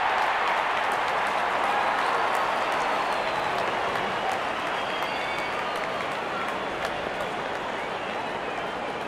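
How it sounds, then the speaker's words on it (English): Stadium crowd in the cricket video game Real Cricket 22 cheering in anticipation as the openers walk out, a steady broad roar with some clapping under a commentator's voice. "Openers walking in and the crowd cheering in anticipation."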